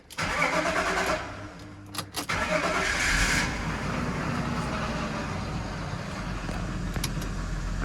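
A BMW E39 that has stood unused for two years cranks briefly, catches and settles into a steady low idle, heard up close.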